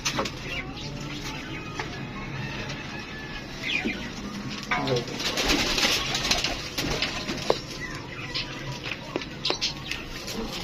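Pigeons coo softly at a pigeon market in Lahore against a busy outdoor background, with scattered bird calls and some indistinct chatter.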